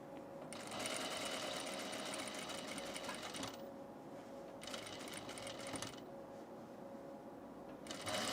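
A sewing machine stitches the collar of a tunic in two long runs of steady, fast mechanical whirring, with a short pause between and a third run starting at the end, close and even in level.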